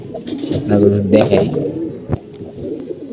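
Pigeons with colds, noses swollen, coo softly at close range, a low throaty burble running beneath someone speaking, with a sharp knock near the end.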